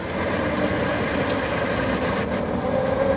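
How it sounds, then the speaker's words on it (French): A Ford Model T engine revs steadily as the throttle is opened and the car pulls away, a loud continuous mechanical drone with a rough, knocking texture and no talk. "On augmente un peu les gaz tout en appuyant sur la pédale pour embrayer"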